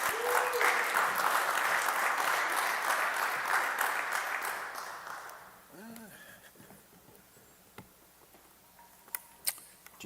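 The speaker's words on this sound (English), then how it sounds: "let's give him a nice round of applause" Audience applause for a speaker at a tech talk event, steady clapping filling the first half then fading out, followed by near silence with a few scattered clicks and faint voices.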